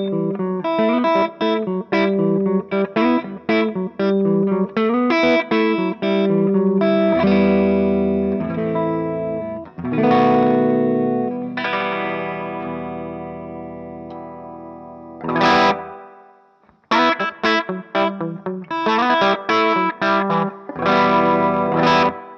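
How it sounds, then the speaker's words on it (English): Clean electric guitar tone played through an amp with a Flint reverb pedal on its 60s setting, loud strummed chords and picked notes with a roomy reverb tail, a brief pause near the end before playing resumes. "Here is the clean tone."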